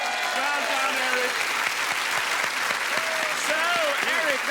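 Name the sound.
studio audience cheering and applauding for Eric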